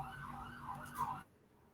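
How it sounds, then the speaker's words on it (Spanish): An ambulance siren wails up and down at a distance, faint and wavering, then cuts off abruptly. "está pasando por ahí una ambulancia"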